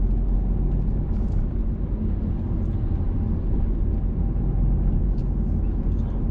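Car engine droning steadily through a driving lesson, a continuous low rumble with no clear rise in pitch, close and fairly loud throughout.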